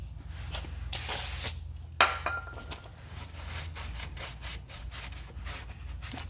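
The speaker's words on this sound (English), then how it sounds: "Let me hit it with some brake cleaner." Brake cleaner sprays from an aerosol can in a short hissing burst onto the brakes of a 2012 Honda Civic. Scraping and rubbing sounds follow close by.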